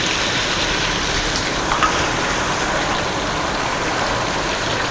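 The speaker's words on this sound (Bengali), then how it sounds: "অসাধারণ বৃষ্টি দেখছেন গাইস" Steady afternoon rain falls outdoors, filling the scene with a dense, even hiss that stays unchanged throughout with no pauses and no voices.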